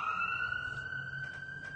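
Wailing emergency vehicle sirens outside, a steady high tone with a slowly rising pitch sustained throughout, moderately distant over a low background rumble.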